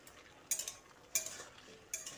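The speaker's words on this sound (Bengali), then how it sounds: "মাঝে মাঝে ঢাকাটা খুলে লাউটাকে এইভাবে নেড়ে চেড়ে নিতে হবে" Three spaced spatula scrapes and light clinks sound as bottle gourd is stirred in a covered pan, quiet and close with soft sizzling between the strokes.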